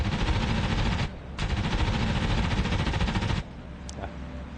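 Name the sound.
F4U Corsair machine guns firing in flight video game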